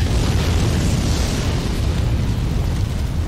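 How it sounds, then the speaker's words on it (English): Fire in Sekiro: Shadows Die Twice surges with a dense, steady roar of crackling and rumbling flames, loud and continuous throughout with no talk. "that fire just got a little bit more intense"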